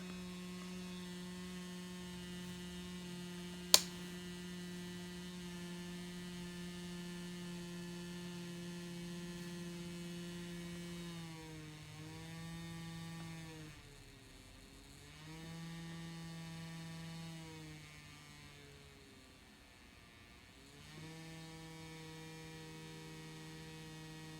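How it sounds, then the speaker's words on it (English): Small electric motor powered by a homemade zinc gel electrolyte battery, a steady close hum that dips and wavers in pitch several times as the load shifts, with one sharp click early on and no talking. "we'll connect the little motor again"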